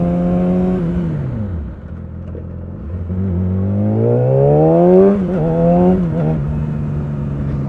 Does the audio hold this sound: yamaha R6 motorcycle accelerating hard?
yes